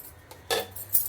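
A cooking pot is set down on a stove, giving a couple of short close metallic clinks and a scrape in a quiet kitchen before coconut pulao is cooked.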